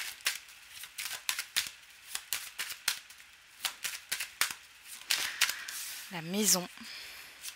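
Tarot cards shuffled and flipped one after another in a steady run of crisp snaps and riffles, close and fairly loud, with someone speaking briefly over them near the end.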